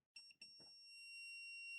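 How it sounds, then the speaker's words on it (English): Multimeter in continuity mode beeping across a shorted capacitor on an MSI B450-A Pro motherboard: two short tones, then a continuous steady high-pitched beep, clear and close with no voices. "Let's check in continuity mode, in beep mode, so you don't have to see it, but we will be able to hear it."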